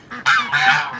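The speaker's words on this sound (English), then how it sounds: "geese saw that I put something on the ground, and now they think they want to go eat it" Geese on a homestead honk in several loud, close bursts in quick succession, excited by food placed on the ground.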